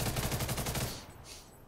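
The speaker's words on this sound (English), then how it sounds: "Or, well, that's the assault rifle" Rapid automatic assault rifle fire in the shooter game First Assault, a close, loud burst of about ten quick evenly spaced shots that stops abruptly, followed by fainter trailing noise.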